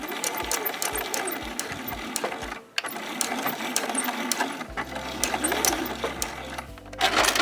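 Sewing machine stitching a fabric bin, a close, steady whirring run with a short pause partway through and a few brief stops near the end.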